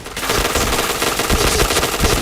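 Rapid automatic gunfire from the online shooter game PointBlank, a dense continuous burst of loud rattling shots filling the whole stretch with steady intensity.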